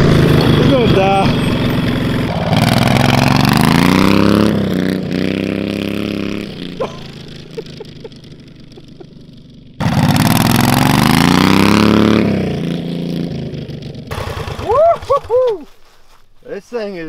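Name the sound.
479cc V-twin mini bike engine running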